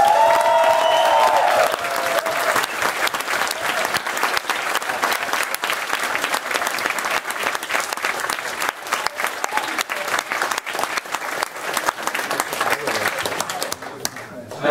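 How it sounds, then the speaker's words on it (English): Sustained audience applause at a leadership summit debate, a thick wash of clapping with some crowd noise, holding steady for the whole stretch after a voice speaks at the start. "let's hear a round of applause."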